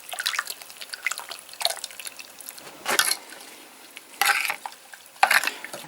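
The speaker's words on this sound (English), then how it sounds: "mix it with about 3 times the volume of the ash with water" Tinder fungus being stirred into a wet mix of ash and water gives soft sloshing, squelching and dripping sounds with irregular louder splashes, close and fairly quiet, with no talking.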